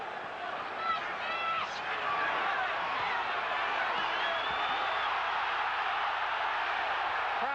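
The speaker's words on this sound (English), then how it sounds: "Crowd reacting to Bruno's keeping Witherspoon pinned" Spectators at the Tim Witherspoon versus Frank Bruno WBA heavyweight title fight keep up a continuous, loud roar and babble of excited voices and shouts, with a few higher whoops rising out of the sustained noise.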